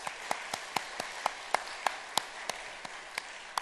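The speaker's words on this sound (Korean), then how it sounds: "우리 할렐루야 찬양대 박수 한번 해주세요." A congregation at a church worship service claps for the choir in a steady rhythmic beat, about a dozen evenly spaced claps. The clapping sounds fairly faint and distant.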